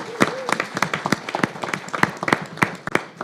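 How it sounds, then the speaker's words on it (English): A small audience at a school board meeting claps for high school students, with distinct, uneven hand claps from a modest group of people, fairly close and moderately quiet. "So let's give our high school students another round of applause"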